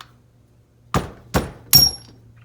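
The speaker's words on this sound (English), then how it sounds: "I cannot seem to hit this thing right with this stupid ass hammer" A hammer strikes a rear shock part on a Honda ATC 200x three times, sharp close metallic blows spaced under half a second apart, the last ringing briefly.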